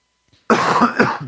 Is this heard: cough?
yes